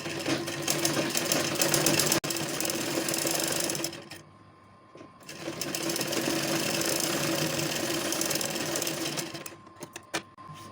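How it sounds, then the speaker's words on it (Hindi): A sewing machine stitches piping onto a kurta, whirring steadily and closely in long runs, dropping out briefly in the middle and stopping near the end. "एक पैर के मार्जिन के हिसाब से इस पे सिलाई चला लेना है"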